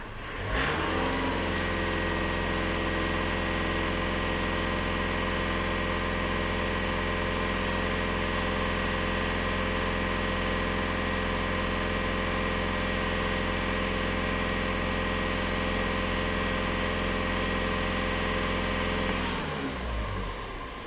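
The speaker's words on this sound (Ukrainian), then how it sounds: "Даємо обертів в отсечку." A VW Golf 1.6 TDI diesel engine is held at high revs against the rev limiter, a loud, steady, close drone for nearly twenty seconds before it drops back sharply at the end.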